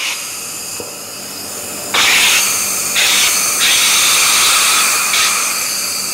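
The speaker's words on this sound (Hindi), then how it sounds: "दो से तीन दफा से प्रेस करना है और इसके अंदर सोडा बन जाएगा।" A manual soda maker machine carbonating chilled water, giving a quiet hiss that bursts into loud, pressurised gas jets in repeated surges as the press is worked, strong and close.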